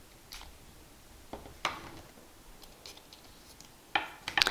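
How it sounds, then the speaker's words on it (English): Alien Goddess perfume is sprayed onto paper and skin in a quiet room, giving a few short, faint hissing spritzes spaced apart with small handling clicks between them. "let's give it a spray on paper and on skin"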